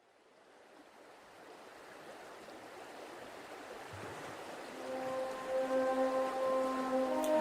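Continuous rushing water of a stream beneath a bridge, a steady broadband wash that swells louder over several seconds, with a few faint tonal hums entering near the end.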